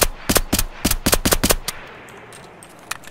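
Gunfire in the video game Escape From Tarkov: a rapid string of about ten loud, sharp shots in the first second and a half, then a quieter pause broken by a couple of faint distant pops.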